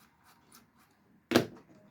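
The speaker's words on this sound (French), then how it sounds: "je vais dévisser" A screwdriver loosening the terminal screw on a light switch during wiring work gives one short, sharp scraping creak near the end, close and fairly loud after near silence.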